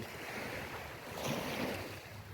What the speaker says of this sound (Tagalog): Ang ang ganda ng ano ng huni ng alon ng tubig.